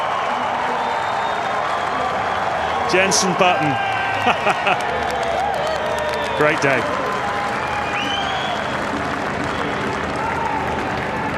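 Race crowd at the 2004 Malaysian Grand Prix cheers and applauds for Jenson Button: a steady, dense roar of clapping and voices throughout, with a commentator talking over it.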